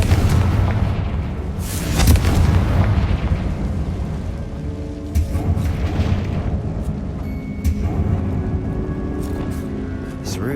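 Confringo blasting spell detonating in the video game Hogwarts Legacy, a loud booming burst followed by rumbling debris and echoing tomb ambience, with a character's voice calling out.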